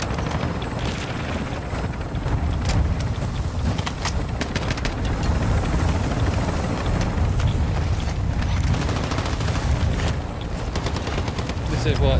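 A helicopter in a multiplayer shooter video game gives a steady, loud, dense rotor roar, mixed with gunfire and players' voices throughout.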